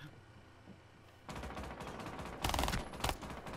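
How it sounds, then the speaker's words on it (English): Submachine gun bursts in Rainbow Six Siege, a quiet start giving way to several loud, rapid volleys with short gaps between them, close and sharp. "Oh, I love this fucking SMG."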